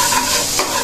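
Chopped garlic sautéing in a pan with spare ribs to follow, a brief loud burst of hot-oil sizzle and stirring heard up close.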